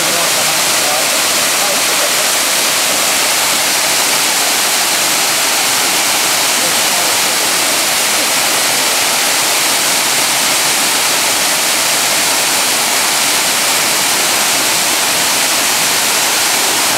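Dry Falls waterfall in Highlands, North Carolina roars continuously up close, a dense, loud, unbroken rush of falling water filling the whole stretch.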